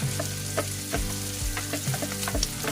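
Garlic frying in a pan for adobong sitaw, a steady close sizzle with a few soft stirring scrapes and taps.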